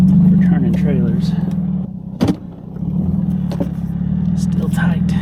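A vehicle engine idles and rumbles up close while turning a camper trailer at a tight, barren Nevada campsite, a low steady drone holding throughout under someone talking, with a brief knock partway through.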